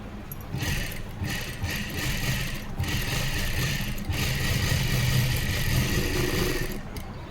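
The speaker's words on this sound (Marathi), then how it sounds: "आणि आता डबल शिलाई करून घेऊ." Sewing machine double-stitching the piping on a blouse neck, a near, steady rapid whir running almost without a break, with brief dips as the fabric is guided.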